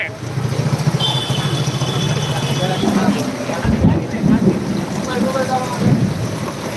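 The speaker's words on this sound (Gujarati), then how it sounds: "ખંભાળિયામાં તો જોરદાર વરસાદ છે" Heavy downpour in Khambhalia during a storm, a loud continuous roar of rain with rumbling low thunder-like swells; a voice talks over it intermittently.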